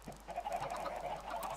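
Chickens cluck on a farm in Minecraft, a steady stream of short overlapping clucks at close range with no talk.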